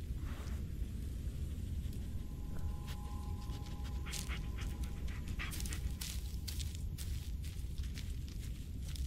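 A dog in the Blair Witch video game pants steadily and rapidly at close range over a constant hiss of ambience, with a few sharp clicks and taps scattered through.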